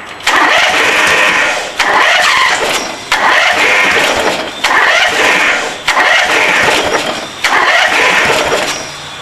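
Craftsman II lawn tractor engine, running a little flooded, cranks in five repeated loud bursts of starter whirring with short pauses between, close by and without talk.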